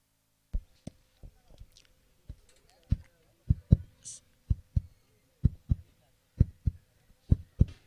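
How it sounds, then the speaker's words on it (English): A heartbeat sound effect plays over a cricket match broadcast: steady, evenly spaced low thumps, some in close pairs, loud and dry against a quiet background, with faint crowd noise. "This is a heartbeat of the batsman."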